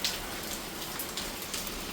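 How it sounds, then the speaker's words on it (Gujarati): Steady rain falls on surfaces, a dense even patter with scattered louder drops, continuous and moderately near without any voices. "આવો વરસાદ બંધ થશે"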